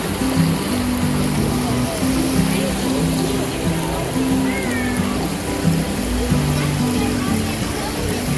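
A creek runs beside a woodland trail, its steady, close rushing water going on without pause under a low, droning melodic tone.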